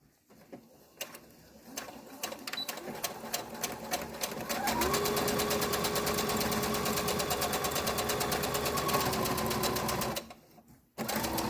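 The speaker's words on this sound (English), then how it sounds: "You're going to sew along the edge to tack the pleats into place." A sewing machine stitches along the edge of a pleated fabric face mask to tack the pleats. It starts with slow ratcheting stitches, then runs fast and steady for several seconds before stopping.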